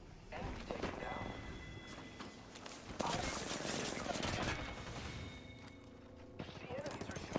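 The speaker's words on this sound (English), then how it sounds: "The enemies are shooting at me." Enemy gunfire in a video game rattles in bursts and overlapping volleys for several seconds, moderately close, with occasional heavier thumps and a voice speaking over the shooting.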